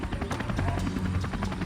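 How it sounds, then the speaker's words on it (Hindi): Helicopter rotors beating in a rapid, steady chop with a loud engine drone, up close and continuous, from a Savdhaan India crime drama about commandos fighting militants. "अब वो दोनों इस टीले से हेलीकॉप्टर पे चढ़ेंगे।"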